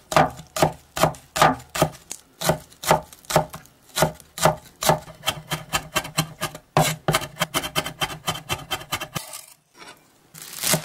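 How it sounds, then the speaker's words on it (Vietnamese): A kitchen knife mincing scallion roots on a cutting board for wonton noodles, a steady run of fast, close, crisp chops with a brief pause near the end. "Thêm một ít gốc hành mình băm nhuyễn ra luôn."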